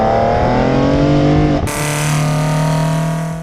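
A Ford Fusion ST engine fitted with individual throttle bodies revs hard and loud, a rich, raspy intake howl that climbs and holds high, with a sharp shift in tone midway and no talk over it.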